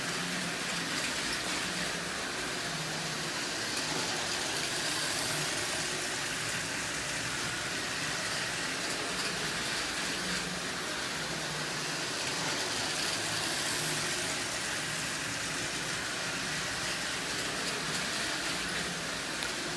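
A Marx handcar motor drives an O-gauge Caterpillar diesel locomotive pulling five Lionel cars at a constant speed, giving a steady, unbroken whir and rumble from start to finish.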